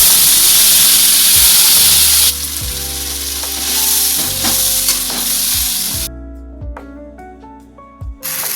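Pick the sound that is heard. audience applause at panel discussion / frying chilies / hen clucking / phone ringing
frying chilies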